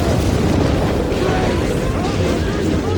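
Ship cannons firing during a naval battle in the video game Assassin's Creed III, a dense, loud roar of booming blasts that rolls on without pause.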